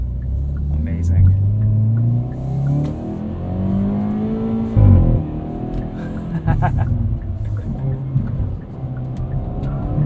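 The engine of a 2021 Hyundai Veloster N with dual-clutch transmission roars under full throttle on a night back-road drive, rising and falling through gears with a loud cabin rumble while someone talks over it.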